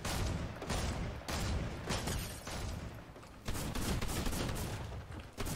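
Dense bursts of rapid gunfire in a Fortnite match, continuous overlapping shots crackling for several seconds at moderate distance with brief gaps, no talk over them.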